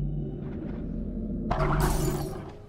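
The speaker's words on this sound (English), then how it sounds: "Break that glass so they will not hear it." Glass shatters in the stealth video game Mark of the Ninja, a single bright crash bursting over a low game ambience hum and fading after about a second, with no speech.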